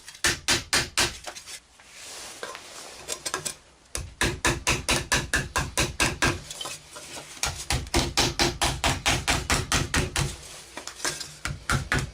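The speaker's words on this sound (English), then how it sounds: "by striking down and pushing the excess metal back in and thickening the walls" Hammer striking the lid of a Yugoslavian mess tin, rapid sharp metallic blows in long rhythmic runs with a short pause between, close and loud.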